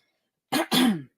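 A single close, harsh cough in two quick bursts, breaking an otherwise quiet moment.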